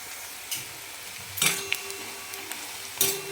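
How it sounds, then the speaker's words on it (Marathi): A few sharp bursts of stirring and sizzling from onion frying in a pan, spaced apart over a quiet steady background hiss. "इकडे आपला कांदा फ्राय होतोय"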